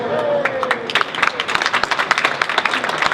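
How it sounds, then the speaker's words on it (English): Crowd at a conference welcoming reception applauding a jazz quartet, scattered individual claps rising into a lively, uneven round with sharp distinct hand strikes close by. "give a big round of applause for the Christina Morales Quartet"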